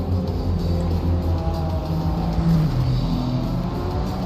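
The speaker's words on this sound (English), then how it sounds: "You can listen to the beautiful sounds that all these engines are producing." Race car engines in an Assetto Corsa GT sports car race at VIR, a video game, with several cars droning and revving together in a dense, continuous roar, no voices.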